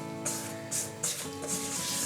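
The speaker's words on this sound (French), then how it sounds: "Et je vais continuer de macaronner la blanche jusqu'à l'obtention de la texture" White macaron batter being folded with a spatula, giving soft rubbing and scraping strokes in a slow rhythm, several passes close up and fairly quiet.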